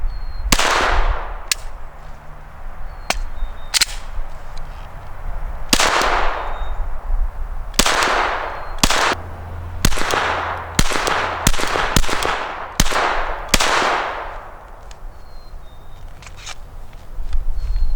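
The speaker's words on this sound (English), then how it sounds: "This is the Glock 44. It's a .22 version of the Glock 19." A Glock 44 .22 pistol fired at targets 25 yards out, about twenty sharp cracks in uneven groups with brief gaps, loud and near with outdoor echo and no talking.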